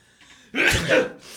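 A single sharp sneeze bursts out after a short quiet intake of breath, loud and close, followed by a faint exhale.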